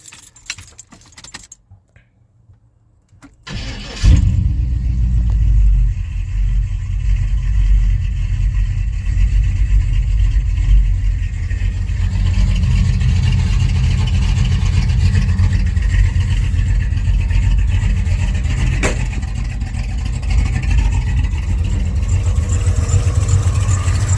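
Keys jangle before an HEI-swapped OBS truck engine cranks and starts, then runs with a loud, close, steady idle and occasional revs for about twenty seconds, with no talk.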